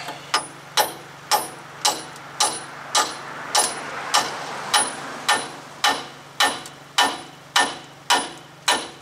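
Hammer blows strike a steel weight to free a front ball joint on a 2009 Toyota Tacoma 4WD, about fifteen sharp metallic hits at a steady, even pace, close and loud, with no voices.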